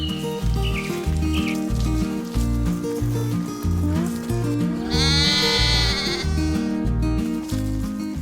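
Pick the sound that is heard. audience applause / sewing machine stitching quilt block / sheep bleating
sheep bleating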